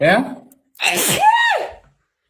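A woman sneezes once during a live sneezing fit, the sneeze preceded by a short breathy vocal sound, with brief talk in between.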